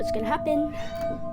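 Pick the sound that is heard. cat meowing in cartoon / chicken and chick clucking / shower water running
cat meowing in cartoon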